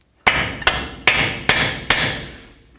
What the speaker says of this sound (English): we'll use our hammer and give it a couple loving bonks